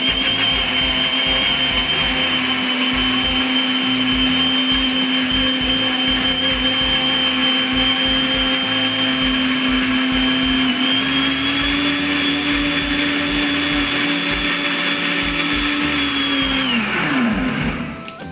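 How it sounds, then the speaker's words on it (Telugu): A mixer grinder blending a banana milkshake whirs loudly and steadily for a long stretch, then winds down as it is switched off. "మెత్తగా మిక్సీ పట్టుకోవాలి."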